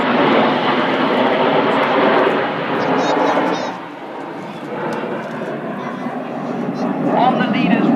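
Red Arrows jets flying past at an air display, a loud sustained engine roar that dips briefly then builds again, with a commentator speaking over it.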